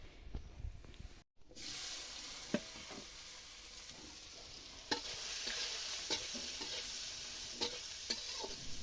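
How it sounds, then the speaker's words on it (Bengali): Spiced soybean chunks sizzle steadily as they fry in a pan, with a spatula scraping and stirring at intervals throughout; close and fairly even, with a brief dropout early on. "সয়াবিনটা এই যে মশলা দিয়ে মাখিয়ে নিচ্ছে, তারপরে ভালো করে ভেজে"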